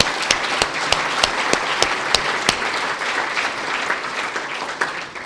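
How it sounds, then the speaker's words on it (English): At an engineering institution's end-of-year dinner, guests clap for the chairman and the director general, with a few sharp, evenly spaced claps standing out over a steady bed of moderate applause. "Can I ask you to give a round of applause for the chairman and the DG?"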